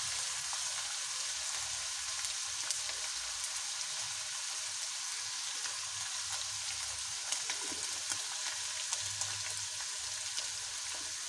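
Minced meat sizzles and fries steadily in a pan with turmeric, salt and black pepper, a continuous close crackle with faint stirring scrapes and no talk.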